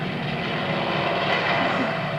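World War II torpedo planes attacking Pearl Harbor, Hawaii, their aircraft engines making a steady, loud, broadband roar that holds at the same level throughout.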